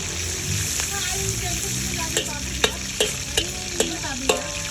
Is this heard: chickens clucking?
no